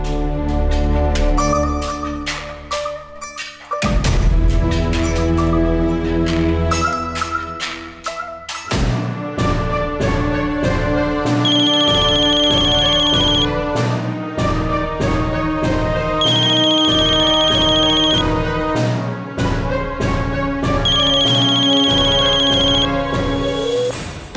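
A phone rings with a melodic ringtone, a loud repeating tune with steady beats and bright chiming tones that runs continuously with no voices.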